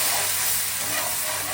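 Onion paste and fried prawns sizzling in a frothy pan while being stirred, a loud, close, continuous hissing spatter with no pause.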